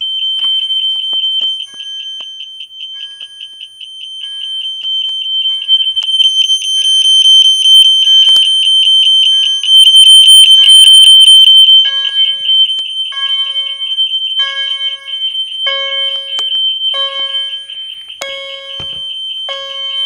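A loud fire alarm sounds continuously, a piercing high tone mixed with repeated electronic beeping pulses, close and unbroken throughout.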